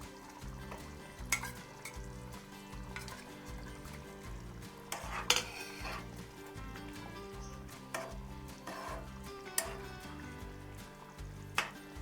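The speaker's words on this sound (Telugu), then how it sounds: "నేను ఇప్పుడు ఈ 3 ఎగ్స్ని ఇందులో వేసేస్తున్నాను." Eggs go into a pan of simmering egg curry gravy, with soft sizzling, stirring scrapes and occasional utensil clinks against the pan, quiet and close with no speech.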